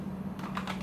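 Brief burst of computer keyboard typing while a Linux install command is entered, two or three quick key-press clusters over a steady low hum, close and moderately quiet.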